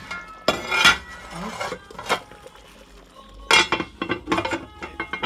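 Metal lid set onto a pot of rabbit stew after boiling, a few distinct clinks and clattering knocks of metal on metal, close, separated by quiet gaps.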